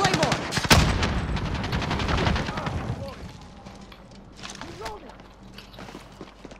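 Rapid bursts of automatic gunfire and shotgun blasts in Call of Duty: Modern Warfare, loud and dense at first, then thinning to scattered shots and footsteps while a player talks excitedly over the action.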